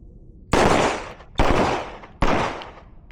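Three loud, evenly spaced gunshots at a shooting training range, each a sharp crack with a brief decaying tail, heard close up without talking.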